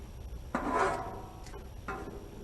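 Popcorn kernels popping under a lid on a Blackstone griddle, with one fairly loud burst near the start and a second, fainter pop a moment later over a low steady background.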